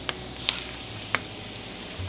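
Lamb on the bone frying gently over low heat in butter and olive oil with rosemary and thyme, a soft steady sizzle with a few sharp pops and spatters.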